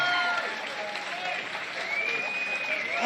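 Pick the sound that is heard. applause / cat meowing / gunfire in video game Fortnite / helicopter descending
applause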